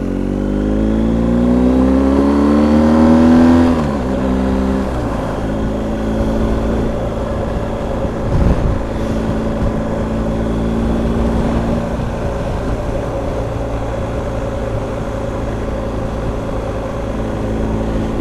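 BMW R1250 GS Adventure TE Triple Black Edition motorcycle on the move, its engine revving up in a rising drone, then settling into a steady loud hum with wind rush and a brief clunk midway.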